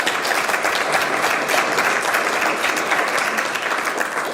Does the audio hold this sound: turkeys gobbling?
no